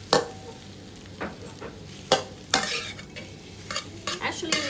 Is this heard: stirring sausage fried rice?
yes